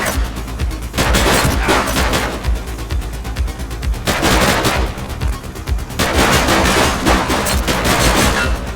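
Heavy, continuous gunfire in a police shootout from the video game The Precinct, loud overlapping automatic bursts and single shots hammering without a break throughout.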